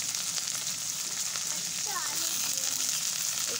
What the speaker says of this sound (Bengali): পটল আর আলুটা দিয়ে